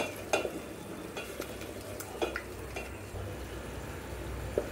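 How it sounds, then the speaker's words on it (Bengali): Turmeric, chili and coriander powders fry in oil in a pan, giving a soft, low sizzle as a utensil stirs and scrapes through them with several distinct knocks against the metal. "ভালোভাবে মশলাগুলোকে কষিয়ে নিব"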